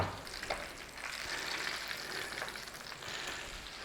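Sausages for toad in the hole fry in a pan with a continuous, close, moderately quiet sizzle and spatter, heard alone.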